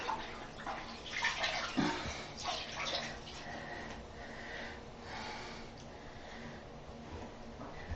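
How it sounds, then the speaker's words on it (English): A wet cleaning rag dunked repeatedly into toilet water, producing sloshing, splashing water sounds with a steady watery hiss underneath, close up, and no one speaking. "we'll just dunk it a few times in the toilet."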